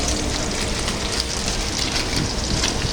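Onions fry in a pot of oil as hilsa khichuri is cooked, making a loud, dense, unbroken sizzle that fills the whole stretch without any talk.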